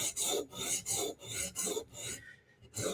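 The edge of a Steel Will flipper knife is sharpened with a steady back-and-forth rasping rhythm of about five quick strokes, close and fairly loud.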